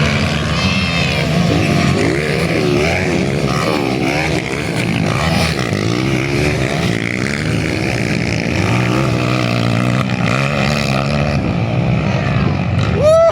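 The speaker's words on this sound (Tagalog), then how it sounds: "Lakas talaga ng motor." Kawasaki KLX dirt bikes race at a motocross event, their engines revving and droning loudly, several overlapping as they rise and fall in pitch throughout.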